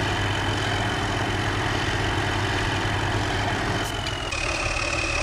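A tractor engine idles at a steady low rumble close by at a quarry worksite, running continuously and loudly without any voices over it.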